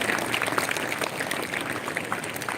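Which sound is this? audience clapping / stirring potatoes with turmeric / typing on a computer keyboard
audience clapping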